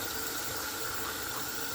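Tap water runs steadily into a sink while bulgur is rinsed in a home kitchen, a continuous close hiss and splash with no talking.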